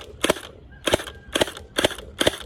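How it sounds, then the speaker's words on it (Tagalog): An M4A1 gel blaster firing five sharp, loud shots at a target, evenly spaced at a moderate rhythm, close to the listener with no talking. "ito ang ating Gel Blaster M4A1"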